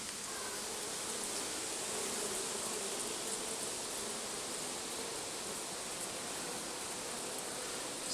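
Honey bees buzz in an open hive holding brood and hatching bees, a steady, dense drone that fills the whole stretch without pause.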